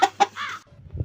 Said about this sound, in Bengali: মুরগি কক কক করতে যাই তো দেখে আসি।